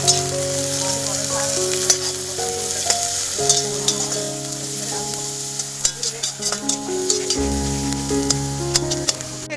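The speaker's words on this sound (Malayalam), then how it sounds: "സവോളയും ക്യാരറ്റും കൂടെ ഒന്ന് വറുത്തെടുക്കാവേ" Onions and carrots fry in a pan for an Arabic mutton majboos, with a steady sizzle throughout, stirring scrapes and a few clinks over it, fairly loud and close, and no talking.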